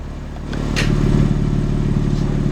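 A small mechanical click as the exhaust valve opens, then a 2021 BMW M3/M4 Competition engine, 510 hp, idles noticeably louder and deeper, a steady burbling rumble up close with no talking.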